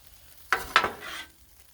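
A metal spatula chops fried rice on a hot Blackstone griddle, giving two quick scraping strikes over a soft sizzle that fades out.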